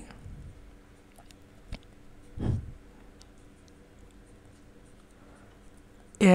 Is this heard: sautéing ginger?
no